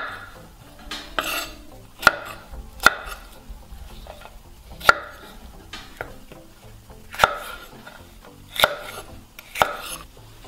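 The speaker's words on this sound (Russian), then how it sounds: "теперь нарезаем перчик крупно" A knife chops a bell pepper into large pieces on a cutting board, with about eight loud, sharp strikes at an uneven pace and soft scraping between them, close up with no voices.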